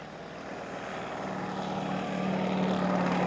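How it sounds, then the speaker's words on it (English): A radio-controlled scale SIG Piper Cub J3 model airplane comes in to land at a scale aircraft show, its small engine drone steady and gradually growing louder as it nears, with no talk. "Here's Jeff Amos for his final landing of the first event."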